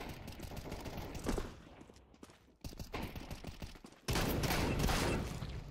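Shotgun fire in Counter-Strike 2: a few loud, sharp blasts in quick bursts, separated by brief quieter gaps, with the heaviest volley near the end.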